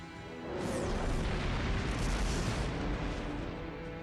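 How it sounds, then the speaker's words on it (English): Orbital lasers strike and pierce an enemy hull in the video game Fuga: Melodies of Steel 3, a heavy rumbling blast that swells after a quiet start with a sweeping high whine, then rolls on loudly without voices. "In the instant, the orbital lasers locked onto the Tyrannus pierced its hull."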